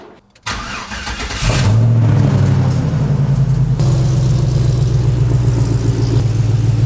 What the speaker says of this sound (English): fire the truck up for the first time